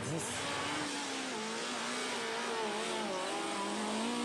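A homemade Raptor-style 4x4 vehicle's engine starts and runs, a steady loud motor drone with a rising, wavering whine throughout.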